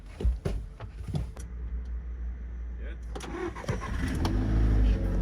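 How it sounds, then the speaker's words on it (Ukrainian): A 2007 Volkswagen Touran with a flat battery is jump-started from a booster pack: a short cranking burst, then the engine catches and settles into a low, steady idle, heard close up in a parking lot. "Завели машину з бустера, був сівший акумулятор."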